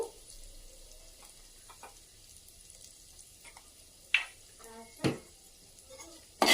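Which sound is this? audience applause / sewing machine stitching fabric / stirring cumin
stirring cumin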